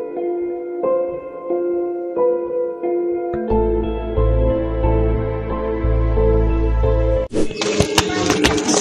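Children play a gamelan at a Balinese temple: ringing metallic tones strike in a steady rhythm, then a low sustained drone joins and a louder burst of clangs follows near the end, all close and fairly loud.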